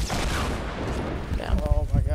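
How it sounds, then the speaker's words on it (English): A Fortnite rocket explodes with a dense, booming blast that fills the opening, followed by rumbling, crackling debris while a player talks over it. "Oh, that's a rocket."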